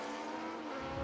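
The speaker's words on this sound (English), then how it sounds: "So carrying speed into the mid-corner, Steve Hartley spinning away" A historic Formula 1 car spinning out mid-corner at a race meeting, a brief distant squeal of tyres over a steady engine drone.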